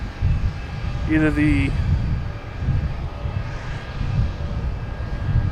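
An airplane at Boston Logan Airport makes a steady, moderately loud roar across the whole stretch, with a person talking briefly over it near the start.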